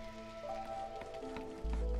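Steady rainfall in the city-building game Against the Storm, a continuous soft patter of drops on surfaces with game tones layered underneath, holding even throughout and swelling slightly louder near the end.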